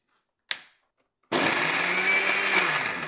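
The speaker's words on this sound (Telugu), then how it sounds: "సో ఇప్పుడు ఈ మిరపకాయలు, ఉప్పు అన్నిటినీ కూడా కారపొడిలాగా మెత్తగా రుబ్బేసుకుందాం." A mixer grinder pulverising dried red chillies with rock salt: a brief clatter as the jar is handled, then the motor starts abruptly into a loud, steady, close whine with gritty grinding, and no one talks.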